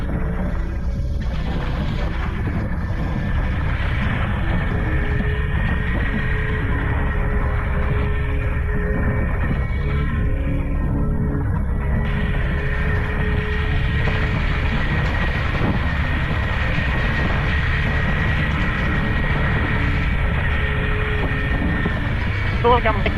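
A Honda CRF250L dirt bike pushes through huge mud holes with a continuous, loud engine drone and rumble. A person talks over it.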